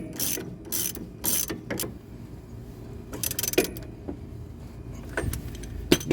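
A hand ratchet tightens the nut on a new big rig shock absorber, giving short uneven bursts of clicking with quiet gaps, close but fairly faint, with no talking.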